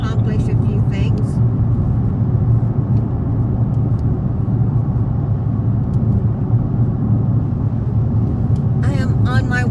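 A car drives along a road on Memorial Day with a steady, loud interior engine and road rumble throughout, and a person talks briefly near the start and again at the end.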